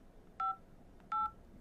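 A touch-tone phone number is dialed. Two short key beeps sound less than a second apart over a faint background hiss.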